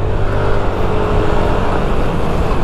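A Yamaha Mio Aerox 155 version 2 scooter revving hard as it overtakes, with a loud, steady engine drone and road noise close by, blended with passing traffic.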